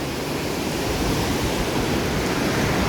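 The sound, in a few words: flood water released from Hirakud dam on Mahanadi river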